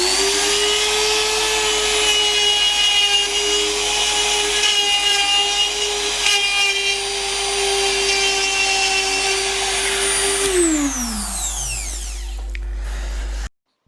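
A cheap trim router with a budget bit whines at a steady high pitch while cutting wood, then spins down with a falling tone near the end as the motor is switched off; no talking.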